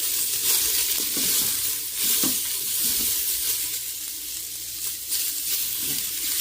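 Mutton pieces sizzle in a pan with onions for a spicy curry cooked without oil, a steady close crackle with occasional stirring scrapes and no talk.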